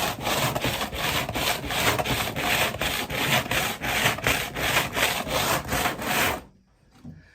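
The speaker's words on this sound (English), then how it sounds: "So I'll just put a piece of adhesive back sandpaper to the workbench where it's flat" Edges being sanded back and forth on adhesive-backed sandpaper stuck flat to a workbench, a steady rhythmic rasping scrub of about a dozen strokes, loud and close, stopping abruptly near the end.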